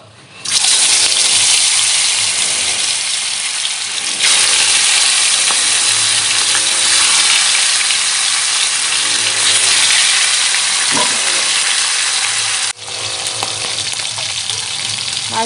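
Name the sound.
river simul kata fish frying in oil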